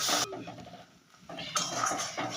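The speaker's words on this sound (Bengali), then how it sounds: "এটাকে ভালো করে আমি কষে নেব যতক্ষণ না তেল থাকছে কষে নেব" Spoon scraping and clattering in a pan as masala with whisked yogurt is stir-fried for a Bengali doi katla fish dish, two bursts of close, sizzling scraping separated by a short quieter pause.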